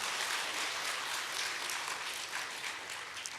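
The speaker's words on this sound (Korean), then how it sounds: "박수 한번 주시기 바랍니다." Church congregation at a Wednesday evening worship service applauds together, a steady, dense wash of clapping held at even strength with no voices on top.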